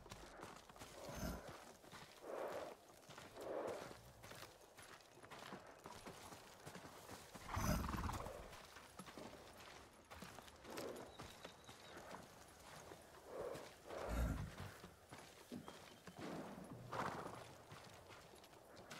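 Horse hooves clip-clopping in Ghost of Tsushima, irregular bursts of hoofbeats with occasional snorts and a neigh, moderately close, spread over a quiet background without talk.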